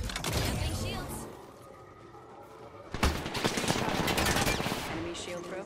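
Rapid automatic gunfire from the shooter game Apex Legends, dense bursts of shots over battle noise, pausing briefly before a second loud volley.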